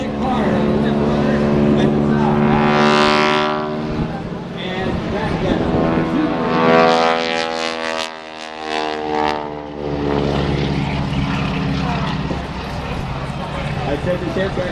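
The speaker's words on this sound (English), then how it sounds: "Is that the little red, white, blue plane we saw over there?" Small red, white and blue aerobatic propeller airplane at an air show, its engine droning loudly throughout with rising and falling pitch as it maneuvers, while people talk over it.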